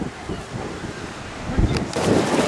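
Surf washes onto Crystal Beach in Newquay, Cornwall, heard as a broad, rushing roar under strong wind buffeting the microphone, swelling louder toward the end.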